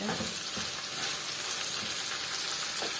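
An ingredient roasts with onions in a frying pan, giving a dense, close sizzle with a few soft stirring scrapes and no talking.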